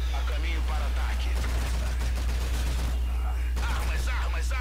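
Dense gunfire from the Call of Duty: Infinite Warfare campaign, a busy fusillade of rapid shots and bursts that runs loud and continuous through the whole stretch, layered with battle noise.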